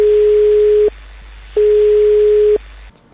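Telephone ringback tone on an unanswered call: two long steady beeps separated by a pause, loud and clear, ending in a brief click and line hiss.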